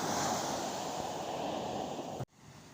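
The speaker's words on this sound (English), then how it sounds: "Some very full-on waves." Strong sea waves crash and wash steadily onto Teignmouth beach in Devon, a loud broad roar that cuts off abruptly near the end.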